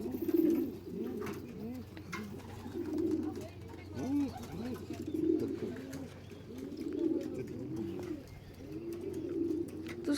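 Pigeons coo on a rooftop, their soft throaty calls rising and falling in repeated rolling phrases every couple of seconds, close and fairly loud over a low steady hum.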